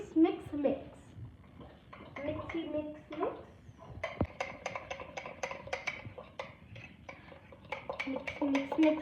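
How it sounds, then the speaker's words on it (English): A spoon clinks and scrapes against a bowl as cocoa powder and mug cake batter are mixed, quick repeated taps in bursts, with a voice speaking over it at moments. "Now we're gonna mix."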